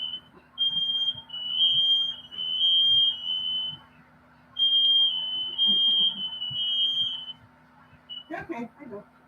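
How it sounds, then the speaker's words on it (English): A highly sensitive household smoke detector sounds in bursts, a piercing electronic tone repeating in several long pulses with short gaps, loud and near, followed by a brief voice at the end. "I have a highly sensitive smoke detector"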